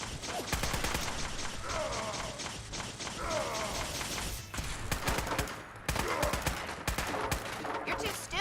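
Companions firing guns in Fallout 4: dense, overlapping gunshots crackle steadily over a busy battle din, with a few sharper close bursts and a faint voice under the noise.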